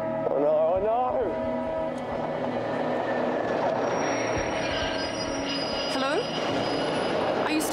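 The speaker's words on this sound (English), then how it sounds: "But a train's coming." A train approaching a car stuck across a railway line, loud wheel squeal and rolling rail noise running throughout with rising and falling screeches, while people talk over it.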